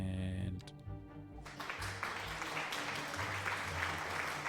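Applause from an audience during a live Cities Skylines II stream, a steady wash of clapping that swells after a brief musical tone and holds at moderate level.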